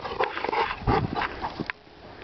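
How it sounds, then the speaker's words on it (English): A dog whimpers, yips and gives short barks in quick excited bursts while playing outdoors on a hill, close and moderately loud. "Oh, that's a good dog."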